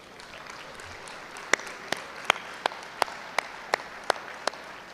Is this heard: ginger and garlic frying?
no